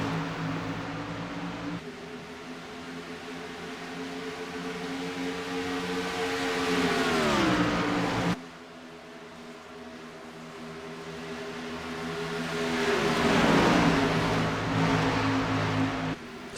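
Racing truck engines in an iRacing race at Texas drone loudly and continuously, several motors layered together, their pitch sliding down about halfway through, then swelling and dropping again near the end.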